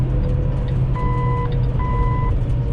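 A truck's reversing alarm beeps twice in slow, evenly spaced pulses over the steady rumble of road traffic and engine noise heard from inside a vehicle.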